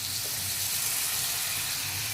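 Marinade water from pearl spot fish (karimeen) is poured into a hot pan for a Kuttanad-style curry, a loud continuous hiss and sizzle of liquid hitting the pan without a break.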